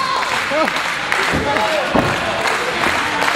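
A crowd at an APCW professional wrestling event cheers and claps in a continuous roar, with a commentator's voice talking over the noise.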